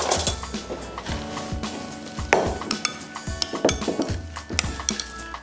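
A smoked salmon and avocado salad dressed with olive oil is tossed with utensils, giving a run of irregular clinks and scrapes against the bowl and soft wet mixing sounds throughout.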